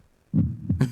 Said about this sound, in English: So this is what his heartbeat sound like.